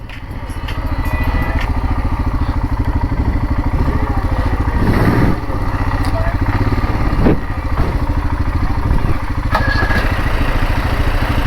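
A motorcycle engine idles steadily and close by with a rhythmic low pulse, with brief voices speaking over it, on a road trip between Gangtok and Jorthang.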